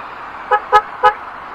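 Three short, loud, nasal blasts from the horn of a Honda Vario scooter, sounded close in quick succession with no voices.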